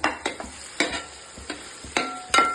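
Ingredients for an egg curry gravy are sautéed in a pan, with a soft sizzle under sharp, periodic scraping strokes of a spatula, close and fairly quiet.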